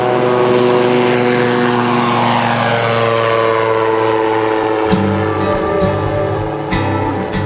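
An AirBorne XT-912 ultralight aircraft with an 80 horsepower engine drones loudly and steadily throughout, a constant close engine hum with a slight shift in pitch near the end.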